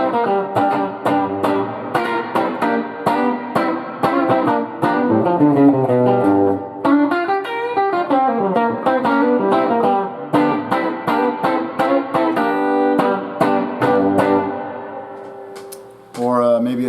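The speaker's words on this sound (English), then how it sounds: "So kind of a nice, kind of a room reverb." Electric guitar played through a Nocturn El Pescadoro preamp and reverb pedal set to a fairly wet room reverb, with picked notes and chords blooming into a sustained wash before fading out near the end.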